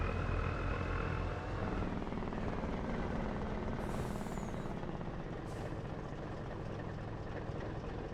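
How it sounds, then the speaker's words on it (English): A logging truck's engine brake in Farming Simulator 25 makes a continuous heavy, throbbing rumble with a dense low growl, loud and close with no talking. "You can hear the Jake brake on this truck though."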